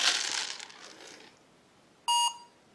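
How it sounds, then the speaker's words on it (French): A phone app scanning the barcode on a box of rice gives one short, clear electronic beep, preceded by faint crinkling of the box being handled near the phone. "Vous avez entendu le bip?"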